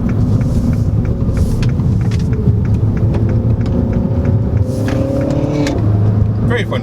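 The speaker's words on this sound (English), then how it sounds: "that acceleration right there, that turn in," A 2022 Mini Cooper S Hardtop 4 Door pulls hard with a steady, rising engine drone and road rumble heard from inside the cabin, the note climbing before easing near the end, with a voice talking over it.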